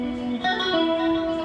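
Electric guitar played through a chorus effect, with sustained shimmering notes and a pitch change partway through, fairly loud with no talk over it.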